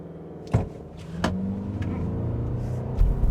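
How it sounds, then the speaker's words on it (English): A Toyota RAV4 XSE hybrid SUV in sport mode launches from a standstill toward 60 mph, its powertrain droning and rising steadily in pitch, heard close from inside without talk. "let's go ahead and see what we can get 0 to 60 wise in this vehicle"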